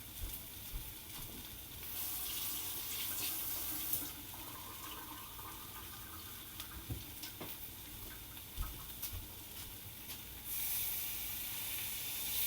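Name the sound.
water pouring from tap for cooking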